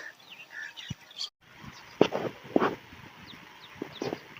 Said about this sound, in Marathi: इकडे एवढे सगळे बगळे साळुंक्या पण आहेत आणि पिवळ्या पिवळ्या चिमण्या पण आहेत